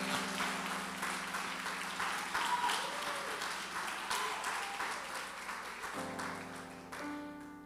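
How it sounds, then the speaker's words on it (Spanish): Congregation at a Spanish-language church service applauds with steady rhythmic clapping over a sustained musical hum, with the clapping tapering and a held organ-like tone rising near the end. "Dale un aplauso al Señor."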